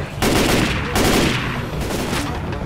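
Assault rifle fire in the video game Left 4 Dead 2, a loud sustained barrage of rapid gunfire with a dense, continuous roar and a brief break partway through.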